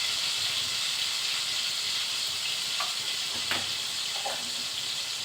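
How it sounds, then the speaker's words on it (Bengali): Cumin seeds sizzle in hot oil for a Bengali taro and prawn dish, a steady, loud frying hiss that runs the whole time, with a few faint clinks near the end and no voices. "ওই তেলেই আমি কিছুটা জিরে দিয়ে দেবো।"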